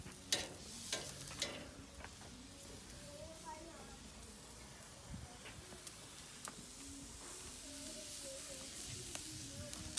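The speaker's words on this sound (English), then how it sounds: "Let the grill do its magic." Homemade hamburger patties and sautéed mushrooms sizzle on an outdoor grill, a faint, steady hiss with small pops and crackles running throughout the ten seconds.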